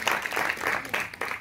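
Conference audience applauding a technician, a short burst of clapping in uneven waves, moderately loud and close.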